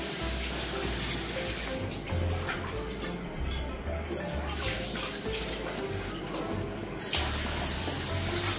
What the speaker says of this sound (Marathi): हे आता मी स्वच्छ धुवून घेणार आहे